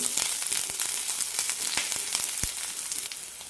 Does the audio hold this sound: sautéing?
yes